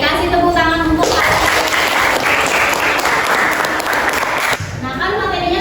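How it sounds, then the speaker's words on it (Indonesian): A classroom of students applauds, a dense burst of clapping lasting a few seconds that starts and stops abruptly, with a teacher's voice just before and after. "kasih tepuk tangan untuk"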